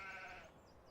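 Sheep in Farming Simulator 17 bleat in a short, loud, close burst that fades quickly into a quiet farmyard ambience.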